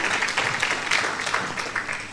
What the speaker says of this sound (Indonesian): Tepuk tangan bagi Yesus ya.